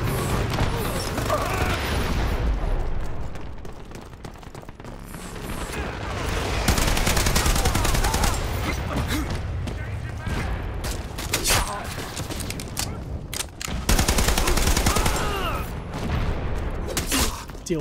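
Rapid, loud turret gunfire in the Dirty Bomb video game, fired from a fixed emplacement on the Underground map, with sustained bursts and booming impacts layered over constant battle noise.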